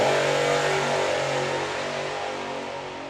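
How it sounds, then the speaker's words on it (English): A 540 cubic inch supercharged altered drag car tears off on its pass with a loud, harsh engine roar that steadily fades as it races away down the strip. "The 540 cubic inch supercharged altered for his first pass of the day."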